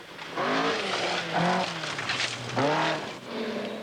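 A 1982 Audi Quattro rally car driving hard on gravel on the Welsh Rally, its engine revving up and down in loud swelling pulls, fairly close.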